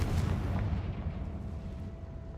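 The Confringo blast spell in a Hogwarts wizarding video game, fired in a boss room: a loud, heavy explosive boom with deep rumble that rolls on and slowly fades.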